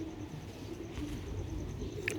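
A pair of black-faced Sialkoti pigeons coos softly and steadily, low murmuring calls close by with a faint chirp near the end and no talking.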